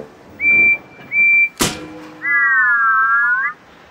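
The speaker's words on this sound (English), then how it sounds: "Percy sounded his whistle." Cartoon steam engine Percy's whistle gives two short clear toots, then a sharp burst and a longer wavering, off-key whistle from his broken whistle, loud and close with no talking.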